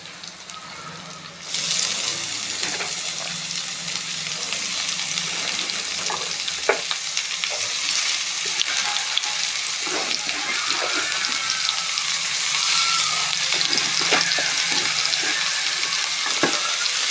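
Radish greens sautéed with plenty of onions in a pan, a steady broad sizzle that swells suddenly as the greens go in, with scattered soft stirring clicks throughout.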